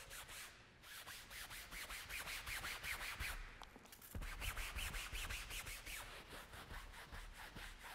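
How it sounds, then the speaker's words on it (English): Close, rhythmic scrubbing as a brush works back and forth over a wet fabric convertible car top, fast even strokes continuing for eight seconds with no speech. "now we're just going to scrub it thoroughly"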